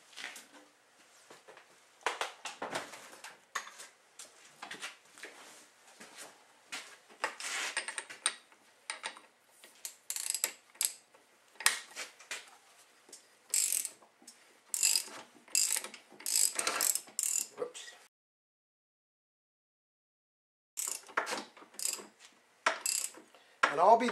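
Socket ratchet tightening a nut on the flywheel of a TX 440 engine, a long run of rapid clicking pawl strokes in irregular bursts, close and fairly crisp, with a short pause before a final flurry.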